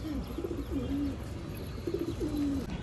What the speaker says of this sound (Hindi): और इसके अंदर हमारे काफ़ी ज़्यादा कबूतर हैं